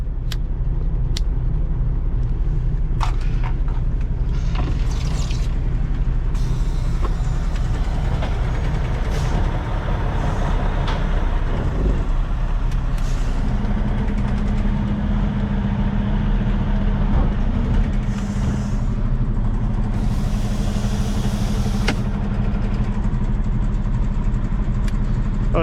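A truck engine runs steadily and loud throughout, a constant low rumble at idle with a shift in tone partway through, plus occasional clanks, hisses and passing traffic noise around it.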